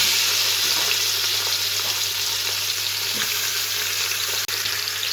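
Mutton frying with whole spices in a hot pan over high heat for a tomato karahi, a dense steady hiss of sizzling oil with faint occasional stirring, close and continuous with a brief dropout near the end.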